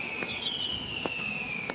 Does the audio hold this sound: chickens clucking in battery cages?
no